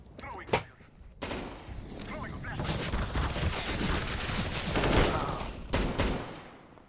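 Bursts of gunfire in Counter-Strike: Global Offensive competitive play, a sharp single shot followed by sustained rapid volleys and a few final loud cracks, with a voice talking faintly underneath.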